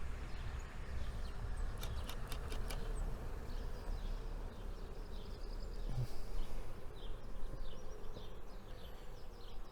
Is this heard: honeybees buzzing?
yes